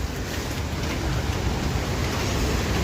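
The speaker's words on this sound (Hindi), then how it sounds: "क्या झमाझम बारिश लगी हुई है।" Heavy rain pours steadily outdoors in a hilly Pahadi village, a dense, continuous hiss and patter at close range with no voices over it.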